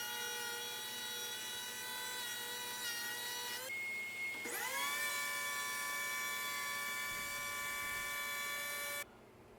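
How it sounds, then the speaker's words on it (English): Surface planer running steadily with a high, whining tone while planing 2x4 lumber, with a brief drop and spin-up in the middle before the motor cuts off near the end. "I haven't used a surface planer before. Really impressed with what a good job it does."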